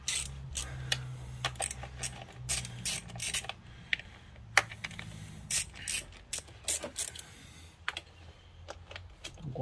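Ratchet wrench clicking in short bursts while bolts come undone on a TDI 130 injector harness, close and fairly quiet, with irregular pauses and metallic ticks between runs.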